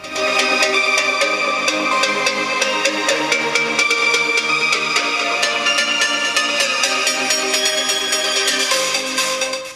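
An upbeat electronic track plays loud and steady throughout from a small RISE miniBOOM Bluetooth speaker, with no one talking.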